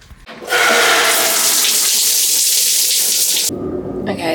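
Shower water running steadily and loudly at close range, a dense hiss that starts abruptly after a brief pause and cuts off near the end, leaving quieter room sound.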